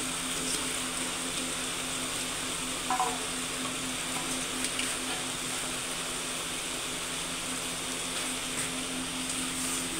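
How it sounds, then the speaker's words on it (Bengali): Mixed vegetables fry in a pan with a continuous even sizzle, and an occasional soft scrape of stirring sits under the hiss throughout. "এই যে এখন সে নেড়ে নিবে"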